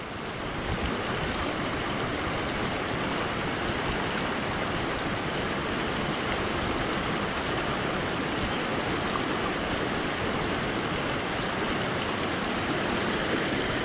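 Strong river current rushes steadily at a remote Divilacan, Isabela trail crossing, a dense, loud broadband roar of churning water that holds unbroken and undiminished throughout, with no voices over it.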